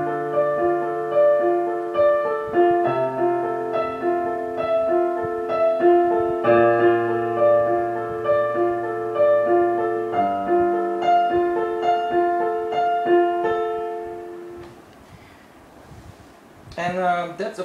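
Piano playing the lower part of a piece with both hands, sustained chords and a steady melodic line ringing clearly, ending with a brief noise.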